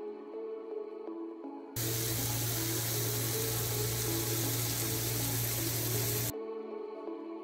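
Lamb chops drop into a hot oiled tawa pan and set off a loud, even sizzle that runs for several seconds and then cuts off abruptly.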